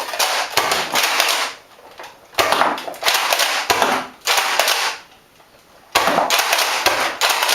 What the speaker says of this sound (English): Okay, so now we're firing more smoothly.